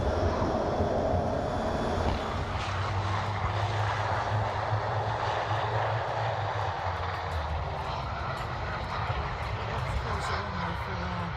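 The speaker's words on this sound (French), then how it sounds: "ramenant une section de chasseurs vers le porte-avions à 500 nœuds dans une manœuvre serrée et précise" A continuous loud roar of a section of navy fighter jets flying overhead in tight formation at 500 knots back toward an aircraft carrier, holding steady for the whole stretch with no pauses.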